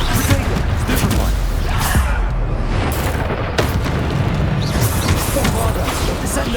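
Repeated Bombarda spell explosions boom in Hogwarts Legacy amid constant loud combat noise, with several sharp blasts landing at irregular intervals throughout.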